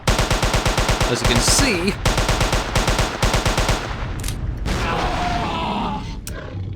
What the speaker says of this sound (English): 2 full rounds of SMG will not put down Omega-09, like, on default